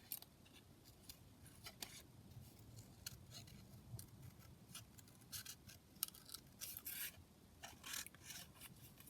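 Scissors snip and rasp through paper while fussy cutting around a printed image, giving faint, close, irregular crisp cuts in quick succession.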